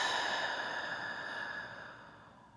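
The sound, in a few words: slow breath in and exhale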